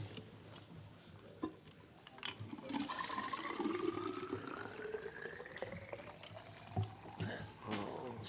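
Fresh water pours and splashes steadily for several seconds, close and fairly loud, with a faint voice in the background.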